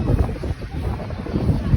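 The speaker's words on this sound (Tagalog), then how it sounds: "Grabe, sarap ng hangin dito guys." Wind buffeting a microphone outdoors at a busy weekend market festival, a steady low rumble of gusts running the whole moment with crowd murmur blended underneath.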